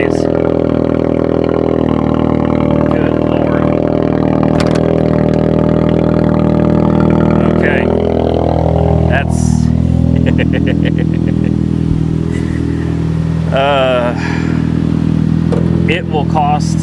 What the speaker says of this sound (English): That sounds like it's straight piped, guys.